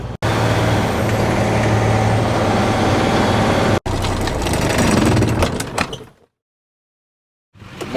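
A hauling truck drives and shifts gears, its engine roaring loud and close with a brief break between shifts, then the sound fades into silence before returning near the end.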